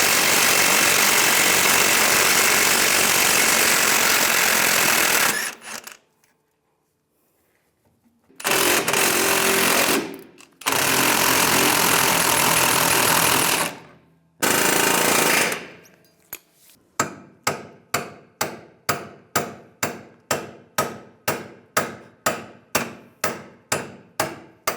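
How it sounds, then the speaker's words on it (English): A power impact tool hammers at a leaf spring bolt on a 2007-2013 Chevrolet Silverado 1500, loud sustained rattling bursts separated by pauses, then a series of short, evenly spaced impacts as the bolt backs out. "Take this bolt out."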